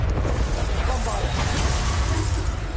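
A Bombarda spell explosion from Hogwarts Legacy makes a dense, loud, roaring burst of noise that fills the whole short moment with rumbling and crackling debris.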